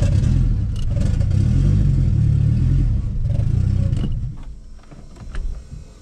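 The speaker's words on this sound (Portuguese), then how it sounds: "Vou ligar o carro aqui, tentar não incomodar muito os vizinhos, vou tentar ligar e já sair rápido" A cold turbocharged Chevrolet Chevette engine starts and revs loudly nearby, with rough, stumbling revs and no steady idle, the engine note thinning out toward the end.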